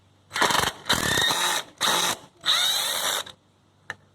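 Power drill backing screws out of scrap wood from an old pool gate, four close whirring bursts with short pauses between, followed by a small clink.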